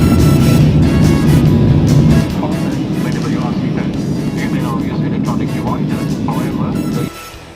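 An airplane landing at Langkawi, Malaysia gives a loud, steady roar that drops in level partway through and again near the end as the aircraft slows.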